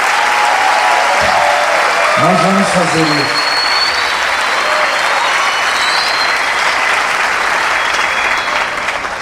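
A church convention audience bursts into loud, sustained applause that fills the whole stretch, with a voice speaking briefly over the start of the clapping.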